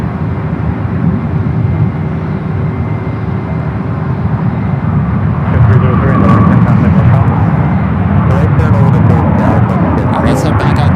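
An All Nippon Airways Boeing 777-300ER airliner at San Francisco International Airport gives off a loud sustained jet roar that swells midway, with a person talking over it throughout.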